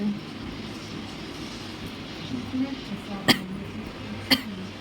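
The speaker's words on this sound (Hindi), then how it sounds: "खांसी आ रहा है गाइस" Two short, sharp coughs about a second apart stand out over a quiet background hum.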